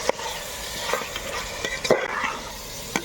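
A pot of mixed biryani with mutton, chicken and prawns is stirred by a spoon, giving scraping, soft metallic clinks and a gentle sizzle at close range.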